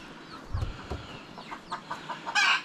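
Hens in a mixed backyard flock clucking, a series of short throaty clucks and calls, moderately close against low background noise, ending with a louder squawk.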